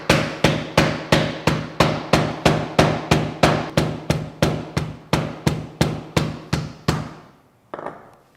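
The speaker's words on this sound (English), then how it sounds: "choose your spot wisely where you can be banging on a hammer over it" Steady, sharp hammer blows on beeswax chunks strike about twenty times in an even rhythm, close and loud, then a pause and one final knock.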